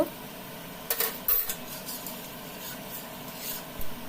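Semai being stirred in milk in a pot, with soft intermittent scraping and rubbing of a spoon against the vessel, a few louder knocks over a quiet background.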